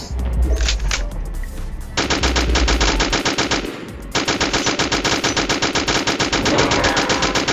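Rapid sustained bursts of MG-42 machine gun fire in the Roblox game Area 51, loud and continuous with a short pause between long volleys, with no talk.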